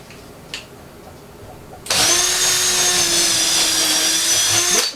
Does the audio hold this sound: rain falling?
no